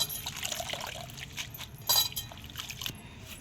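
Water is poured and sloshed over chopped leafy greens being washed in a rural kitchen, soft trickling and splashing with a brief louder splash midway.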